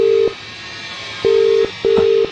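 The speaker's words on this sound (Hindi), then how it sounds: "वापस कॉल करने पर फिर से वही अजीब आवाज आने लगी।" Telephone dialing tones sound while calling a number back, three loud steady beeps, the first cut short at the start and the other two longer, separated by quiet gaps.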